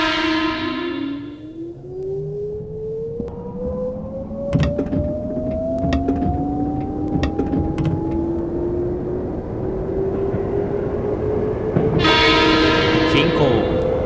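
A train horn blares in the Railfan rail simulator on PS3, Kyoto–Osaka line. An eight-car limited express then pulls away, its motor whine climbing steadily in pitch. A second horn sounds near the end.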